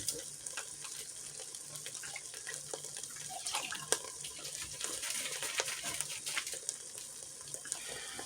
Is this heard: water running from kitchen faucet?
yes